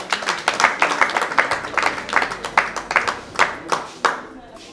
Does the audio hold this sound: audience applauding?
yes